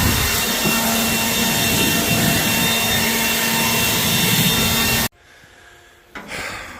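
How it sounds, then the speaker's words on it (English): A battery-powered leaf blower blasts soybean dust off a combine during harvest, a loud steady whooshing roar that cuts off abruptly near the end, leaving a quieter background and a brief rustle. "I killed the battery on the leaf blower and got super dusty in the process"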